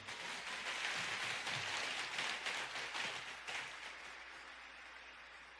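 A church congregation applauds in a faint, dense patter of many hands clapping, fairly distant and gradually thinning toward the end, with no voices over it.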